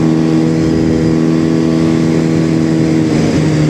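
A QJ SRK450RR motorcycle's exhaust holds a loud, steady, close-up drone at high revs, with strong tonal harmonics. Near the end it shifts slightly as the revs change.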